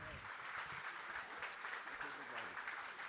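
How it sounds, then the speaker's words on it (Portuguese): Audience applause at a book fair stage welcoming a guest, steady and moderately distant clapping filling the whole stretch without talk. "Palmas para o Leonardo Frois."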